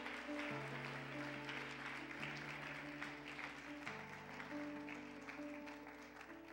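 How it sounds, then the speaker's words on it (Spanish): A church congregation applauds during an evangelical service, a steady wash of clapping running the whole time over sustained keyboard chords. "¿Alguien le puede dar un aplauso bien a esta hora?"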